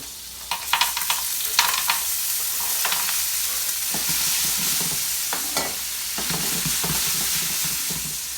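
Gnocchi pan-fry in butter in a piping hot pan, a loud continuous sizzle punctuated by clattering stirs and scrapes as the pieces are moved around, close and alone without talk.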